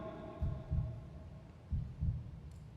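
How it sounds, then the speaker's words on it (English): Two double-thump heartbeats, each a low lub-dub pulse, sound close and clear over a faint electronic hum. "That heartbeat."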